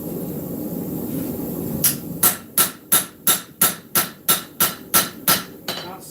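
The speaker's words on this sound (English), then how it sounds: "A lot of these hits are just kind of planishing hits." Steady planishing hammer blows on a knife blade during hand forging, about a dozen sharp, evenly spaced ringing hits close up after a quiet start, each strike clear and unhurried.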